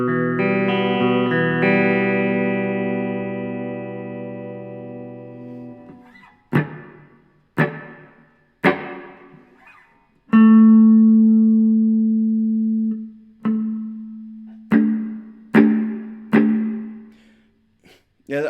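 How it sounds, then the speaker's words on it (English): Electric guitar chords and single plucked notes through a reverb pedal in an ambient worship rig, ringing out with a lush reverb tail, each strike decaying slowly into a spacious wash. "that whole reverb's really good on that"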